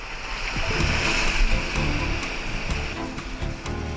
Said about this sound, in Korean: 파도 온 파도 온 파도 온다!